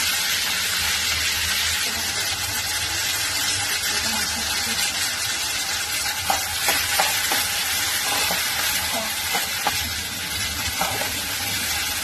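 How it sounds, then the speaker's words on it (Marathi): Onion and curry leaves fry in hot oil with a steady, dense sizzle close by, broken by a few scraping stirs partway through. "कांदा आणि कढीपत्ता चांगला तेलामध्ये परतून घ्यायचं"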